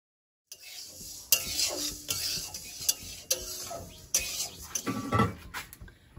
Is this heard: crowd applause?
no